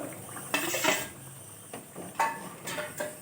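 Lentil fritters and fried pointed gourd are tipped into a cooking pot, giving a few close, brief clinks and scrapes of utensil on metal with soft wet thuds, separated by quiet pauses.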